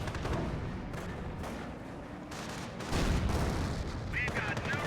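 Rifle, machine gun and mortar fire in the World War II strategy game Company of Heroes, a dense stream of distant cracks and rumbling blasts with a louder burst near the end.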